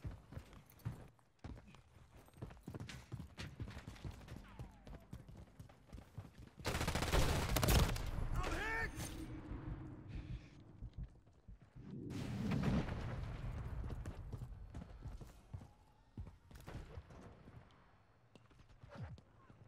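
Gunfire from Call of Duty Modern Warfare III comes as rapid volleys of shots, with two louder, heavier bursts standing out against quieter background firing and game noise.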